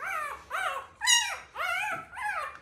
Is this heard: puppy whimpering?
yes